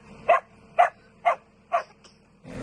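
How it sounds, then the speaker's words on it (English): A dog barks four times at an even pace, moderately close, with faint background noise and a brief rustle at the end. "He's barking at Mario."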